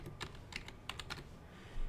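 Computer keyboard typing as a login password is entered on an IP security camera's login page, giving a quick run of close, crisp key clicks in uneven bursts, with no talking.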